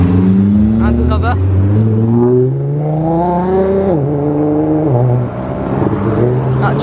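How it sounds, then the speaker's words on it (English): A Nissan GT-R accelerates away from a busy car meet, its engine note climbing steadily in pitch and staying loud and close, with people talking over it. "That GTR sounded good."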